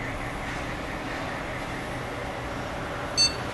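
A single short electronic beep at power-on from a Gigabyte GA-945GCM-S2C computer motherboard, sounding once near the end over a steady background hiss and hum.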